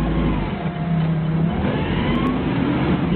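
A forklift engine revs hard and continuously up close while stuck and slipping on a slick incline, a loud steady drone with no talk over it.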